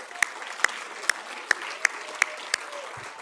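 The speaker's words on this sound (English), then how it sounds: "Let's give them one more round of applause." Applause from an audience at a city State of the City event in Sunnyvale, 2024, a soft steady patter of clapping with several sharp louder claps standing out at regular intervals, heard at moderate distance.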